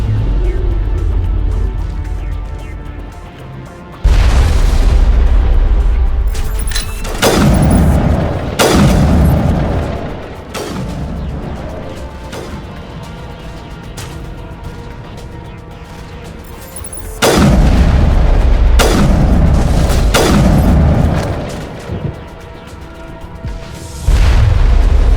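Heavy gun firing in the Mass Effect video game, with big booming blasts in clusters and long rumbling tails over a low droning background, several loud bursts spaced across the stretch.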